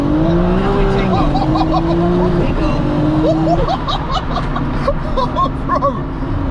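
A dual-clutch MK4 Toyota Supra launches hard, its loud engine note climbing and shifting through gears while excited voices shout over the roar inside the car.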